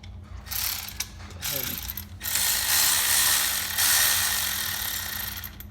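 A ratchet clicks in short, quick bursts, then in a longer steady run, while loosening the idler pulley bolt on a 1998-2002 LS-powered Camaro during water pump replacement. It is close up and loud, with a faint hum behind it.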